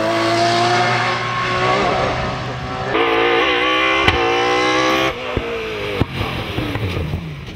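A Porsche 997 GT3R race car at the Bagnols-Sabran hill climb screams up through the gears, loud high-pitched engine revs rising and dropping at each shift, with sharp pops as it passes.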